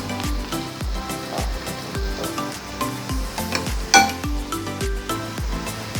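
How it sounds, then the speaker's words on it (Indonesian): Beef sizzles in a hot wok while a utensil scrapes and clinks against the metal in a steady, repeated stirring rhythm. "cuman tinggal dimasak aja di wajan"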